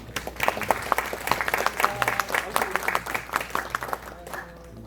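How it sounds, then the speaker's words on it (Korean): A seated audience claps at a lecture event in Korea. Lively, fairly close applause continues throughout with crisp individual claps, tapering slightly toward the end. "저 박수 좀 부탁드리겠습니다."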